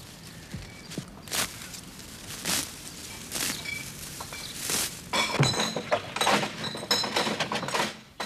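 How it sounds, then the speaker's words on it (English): Glass milk bottles clink and knock together as a Dublin milkman handles them, a run of sharp, bright chinks at irregular intervals with soft footsteps and thuds between them, getting busier toward the end. "Will you look at the expert way that Jerry's handling them bottles"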